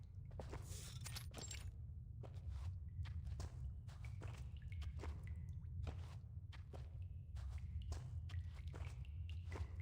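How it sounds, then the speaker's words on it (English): Soft footsteps pad through a tunnel in a video game, a faint, quiet series of light scuffing steps over a low steady background hum. "Only the sound of dripping water and soft footsteps can be heard in the tunnel"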